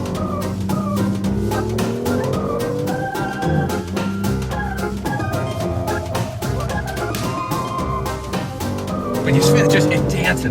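A BMW M2 spins on a course marked with cones, its engine revving hard and its tires squealing in long wavering screeches, close and loud, with someone talking over it.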